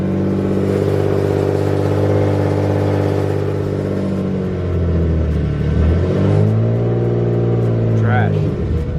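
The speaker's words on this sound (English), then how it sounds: "You guys hear that exhaust leak?" An Infiniti Q50 running with an exhaust leak, a loud close engine rumble with rising and falling revs and a rough exhaust note, and a voice speaking briefly over it.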